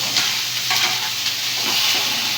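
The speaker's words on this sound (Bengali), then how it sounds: "অল্প একটুখানি কি বলে তেল দিয়ে একটু সতে করে" Potatoes sauté in a little oil in a pan, sizzling steadily up close while a utensil stirs and scrapes them in short strokes.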